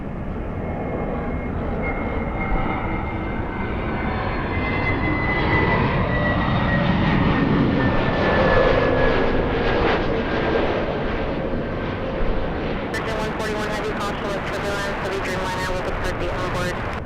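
A KLM heavy airliner, flight 604, moves at Los Angeles airport. Its jet roar sweeps with a slowly falling whine, and a voice talks over it.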